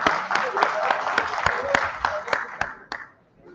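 Audience at a government and technology summit in Dehradun applauds a dignitary joining the stage, with steady clapping that trails off toward the end; no speech.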